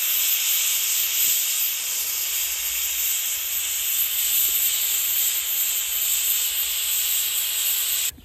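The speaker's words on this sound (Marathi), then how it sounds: "कुकरची एक शिट्टी झालेली आहे" A pressure cooker steadily hisses and vents steam on the stove while cooking chickpeas and potatoes for shak bhaji, the loud continuous rush running unbroken for several seconds before cutting off abruptly.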